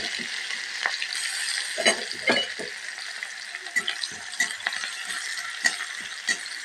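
Garlic and green chili frying over low heat in an iron kadai with mustard seeds and cumin, a continuous sizzle punctuated by scattered sharp pops and a few stirring scrapes, close and fairly quiet.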